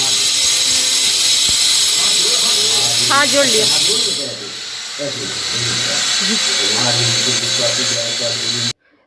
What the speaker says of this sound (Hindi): मंदिर में एक्चुअली कंस्ट्रक्शन का भी काम चल रहा है, इसलिए आपको ऐसी आवाज़ें आ रही हैं, टाइल्स वगैरह की कटिंग हो रही है